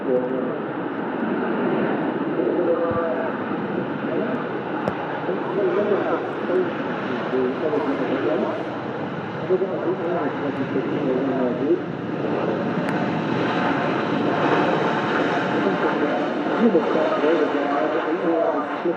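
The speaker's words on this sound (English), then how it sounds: "Really buttery smooth landing there from the Ryanair 737." Ryanair Boeing 737 jet landing at Manchester Airport, a steady, loud roar of jet engines that holds throughout with slight swells, and voices faintly underneath.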